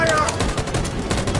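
Loud, rapid machine-gun fire from soldiers in the video game Detroit, a dense burst of overlapping shots with voices shouting underneath.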